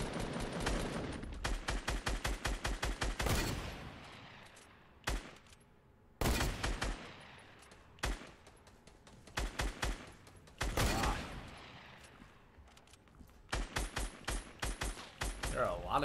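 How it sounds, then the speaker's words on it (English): Bursts of rapid automatic gunfire in the video game Fortnite, loud clusters of shots broken by short pauses, with a player's voice heard between volleys. "Who is shooting at me?"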